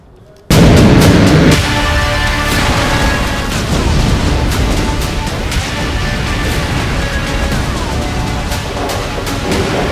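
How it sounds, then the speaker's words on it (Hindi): Explosions and bombing from US strikes on Iran and blasts at US bases in the Middle East form a loud, dense, continuous roar of booms and rumbling that starts abruptly and holds steady, with a musical tone running underneath. "अमेरिकी जेट्स की गर्जना और ईरान पर बमबारी, दूसरी तरफ मिडिल ईस्ट में अमेरिकी अड्डों पर विस्फोटों की गूंज"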